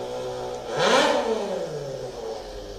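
A voice imitates a four-cylinder motorcycle engine, like a Honda Hornet, revving once: a short rising, then falling whine that peaks near the middle, fairly close and alone.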